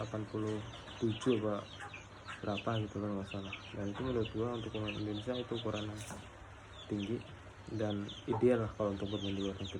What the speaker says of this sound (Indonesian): banyak banget yang ganggu, suara ayam